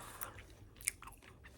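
Close, quiet chewing of Bubble Yum bubble gum in a soft-spoken ASMR session, with soft wet smacks and one sharper click midway, no talking.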